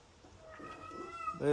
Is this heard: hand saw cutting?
no